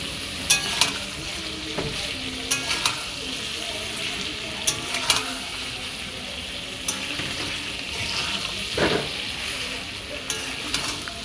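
Salted mutton fries in a pan with a constant loud sizzle, broken by occasional scrapes and clinks of stirring.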